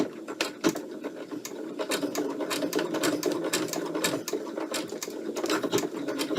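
A sewing machine stitches backwards over a coil of rope with a steady, close mechanical whir and rhythmic ticking, along with faint creaks from the rope.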